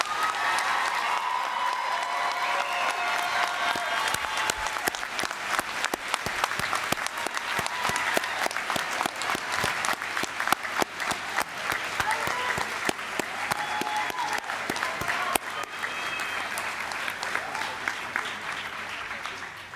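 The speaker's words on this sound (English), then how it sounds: "Please give them one final round of applause" Long, steady applause rolls through a large audience at the Gulf Coast State College 2022 morning graduation, dense clapping with a few scattered whoops that holds at an even level for the full stretch.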